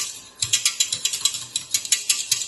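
A metal whisk beats a sauce for lasagne in a pan, giving a quick regular series of close, bright clicking strokes against the metal with no talking.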